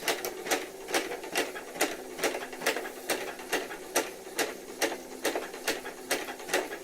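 A Uten 2685a sewing machine stitches at a slow, even pace, each stroke a sharp mechanical click in a steady rhythm, close up with a faint motor hum beneath.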